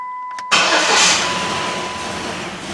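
A Jeep Liberty's engine turns over briefly, then catches with a sudden loud burst and settles into a rough, misfiring run that holds steady and slowly fades, with no one talking.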